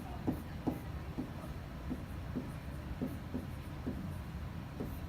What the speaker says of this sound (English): So I'm just going to write that as middle.